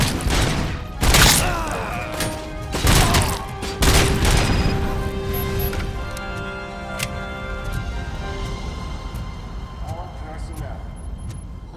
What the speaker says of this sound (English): RoboCop's pistol has unlimited ammo, but you can pick up other weapons.